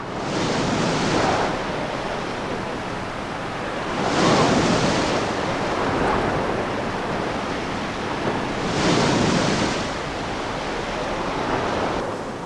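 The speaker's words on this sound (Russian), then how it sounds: "Соленые волны Карского моря настойчиво уговаривали повернуть назад." Heavy surf of the stormy Kara Sea off Novaya Zemlya surges and recedes in slow repeated swells under a constant roar of strong polar wind, loud and close.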